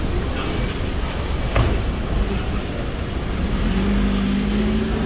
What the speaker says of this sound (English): All right, Jack, if you wanna just watch the car coming